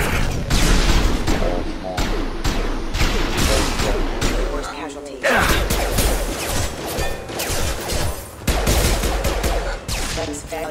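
Heavy gunfire rattles through a Mass Effect 2 firefight against security mechs, with dense bursts and booming impacts filling the whole stretch, briefly dropping away midway before resuming, while game voices speak over the shooting.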